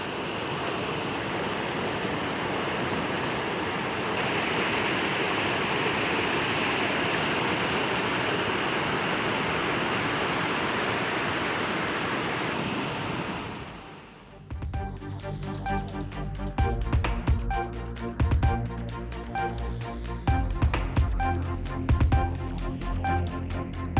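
Panchalinga waterfall near Tiruppur in heavy flood after continuous rain, a loud steady roar of crashing water for about fourteen seconds, then giving way to other busy, louder sound.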